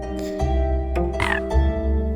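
Two frogs croaking in the Storyteller video game, low repeated croaks over a steady tonal musical backdrop, several short calls spaced across a couple of seconds, fairly close and clear with no talking.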